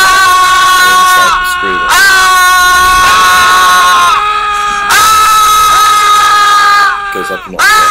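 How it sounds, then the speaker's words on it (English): People scream in a video art piece, with loud, sustained, strained cries in several long bursts separated by brief pauses. "Screaming represents the anguish of social anxiety when we're trying to contain ourselves"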